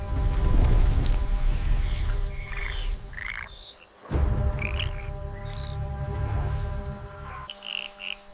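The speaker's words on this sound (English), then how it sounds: "Frogs call to attract mates." Frogs call in the jungle at night, a dense chorus of repeated croaks and chirping notes ringing out near and far over a continuous background hum.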